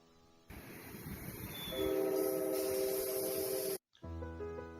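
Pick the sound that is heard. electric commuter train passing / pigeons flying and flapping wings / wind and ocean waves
electric commuter train passing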